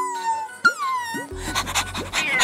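A woman imitates a dog with a few short whimpering yelps and whines, followed by a burst of breathy panting, close and fairly loud.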